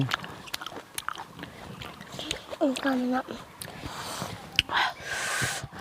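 Crunchy fresh squid being bitten and chewed up close, sharp wet crunches and smacking chews, with someone speaking in Thai between bites.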